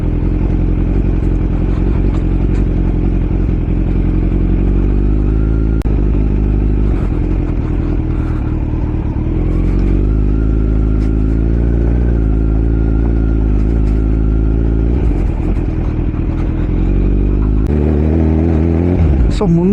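A motorbike rides a rough, broken road near Vizag. The engine drones steadily up close with rattling clatter as it jolts over the uneven surface, and the revs shift now and then.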